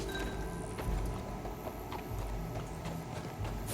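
Horse hooves clip-clopping at a walk in Red Dead Redemption 2, a steady run of soft, fairly quiet hoof strikes over faint ambient background with no talk.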